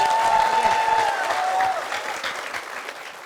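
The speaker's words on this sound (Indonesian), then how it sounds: "Sekali lagi semangatnya dong, tepuk tangan untuk Ibu Ningsih." A television studio audience applauds for Ibu Ningsih on a comedy game show: loud, dense clapping already in full swing, with a brief whistle-like tone early on, tapering slightly over a few seconds.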